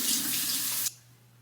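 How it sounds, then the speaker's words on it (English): Warm water pours from a salon sink tap over a clogged, nearly empty hair-product bottle, a steady close hiss that stops abruptly just before the end. "Just run some warm water on this."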